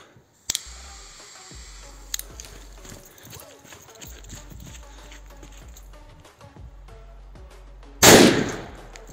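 Firecracker called eksploziv 3 bursting inside a hair dryer, one sharp loud bang near the end after quieter handling clicks and knocks.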